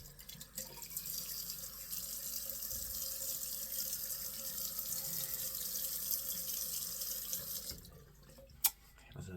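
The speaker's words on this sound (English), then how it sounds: "Let me rinse again." Water running steadily from a tap into a sink while rinsing after a shave, a continuous splashing flow heard close for about eight seconds before it stops, followed by a sharp clink.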